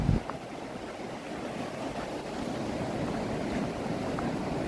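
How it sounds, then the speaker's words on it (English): Steady wash of surf breaking on a Florida Atlantic beach, a continuous broadband roar with some wind noise, moderately loud and without talk. "we'll check out the real waves of the real ocean here"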